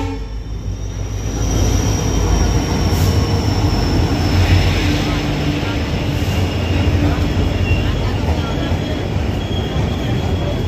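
A single WDP4 diesel locomotive leads the Ajmer Amritsar Express in, a loud, steady rumble of rolling wagons and wheels with faint squeals, building after the first second and holding close throughout.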